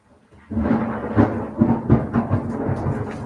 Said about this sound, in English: is a very loud thunder is happening in London at this time